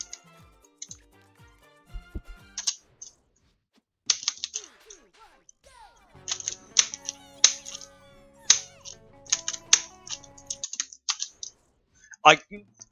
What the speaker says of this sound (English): My keyboard is so loud